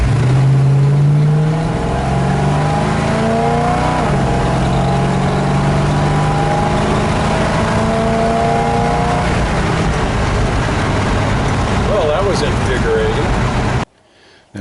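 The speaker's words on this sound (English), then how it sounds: "let's step lightly on the gas pedal and see what happens" A 1941 International K-1 pickup truck engine pulls away on a drive in the country, its loud, close drone climbing steadily in pitch as it accelerates, then cutting off abruptly.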